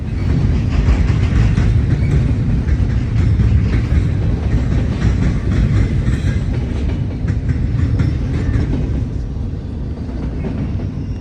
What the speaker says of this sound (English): how many containers are transported upon a single train each and every day